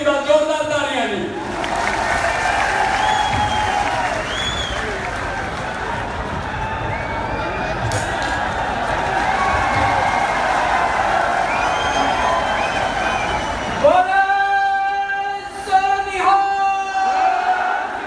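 Rally crowd at a politician's farmers' election manifesto event in Punjab cheers and applauds in a long, loud, sustained roar of clapping and shouting, with an amplified voice speaking briefly at the start and again near the end.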